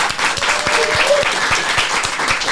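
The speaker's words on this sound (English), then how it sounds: "let's give our audio-visual team a round of applause" An audience applauds at a business event, dense clapping held steady and loud throughout, close and without any talk over it.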